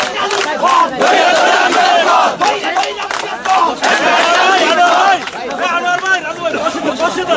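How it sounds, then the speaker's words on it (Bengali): Students at a protest rally in front of Jamuna demanding a ban on the Awami League chant slogans loudly in unison, rhythmic massed voices rising and falling continuously with crowd noise underneath. "বিভিন্ন স্লোগান দিচ্ছেন শিক্ষার্থীরা"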